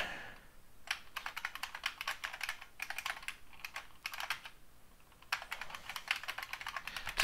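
Typing on a computer keyboard while writing C++ code, rapid clicking keystrokes in bursts separated by short pauses, close and clear over a faint background hiss, with no speech.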